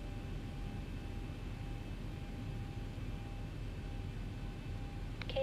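Airliner cabin before takeoff on a flight from Tenerife to Brussels, with a steady low engine and air-conditioning roar and a faint tonal whine, then a short chime near the end.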